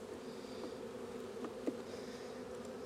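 Honeybees swarming around an open hive next to one being robbed, a steady close buzzing drone with a few brief louder passes of individual bees.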